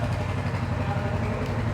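A Royal Enfield Hunter 350 motorcycle engine idles nearby with a low, even, slightly clattery thrum, steady for the whole stretch with no talking.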